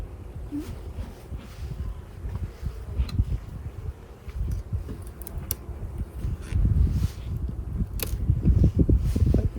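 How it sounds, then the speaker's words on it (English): Honeybees buzz around an open hive while it is split, a steady low droning swarm up close with scattered knocks and handling noises and the occasional voice. "Got the most gentle bees on the place"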